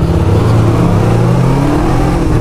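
A big bike motorcycle engine runs loud and close, a steady rumbling idle with slight revving throughout.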